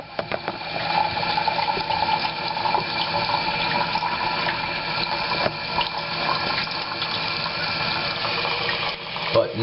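Water gushes and splashes steadily from a jug into a hole in a diffuser demonstration, a continuous rushing pour with small gurgles, close by and fairly loud throughout.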